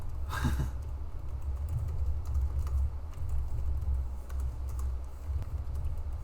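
Fast typing on a computer keyboard during a typing test, a dense steady patter of key clicks close up over low background hum.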